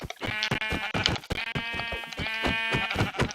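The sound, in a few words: sheep bleating in a blocky video game (Minecraft-style)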